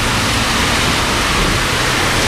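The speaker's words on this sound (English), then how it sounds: "I know, it's crazy how hard it's pouring." Heavy rain pours at night in Athens, Greece, a loud, dense and unbroken hiss of water striking hard surfaces all around, steady throughout without any pause.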